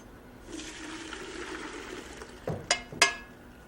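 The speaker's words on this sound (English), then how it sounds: "I'm going to just drain the water off of these noodles" Cooking water poured off boiled noodles in a kitchen, a soft steady pour followed by a few sharper splashes and clanks of the pot near the end, fairly quiet.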